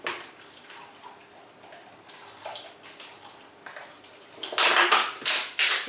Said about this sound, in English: Let's water them in.